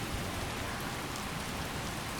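Steady rain in the video game Skyrim hisses evenly throughout, a dense wash of falling drops with no voices or other distinct sounds.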